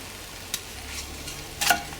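A chilli cheese paratha cooking in a pan, with a soft sizzle, a quick scrape, and then a louder burst of sizzling near the end.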